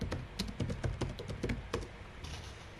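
Someone types a short search query on a computer keyboard, a quick irregular burst of close key taps followed by a softer, quieter stretch.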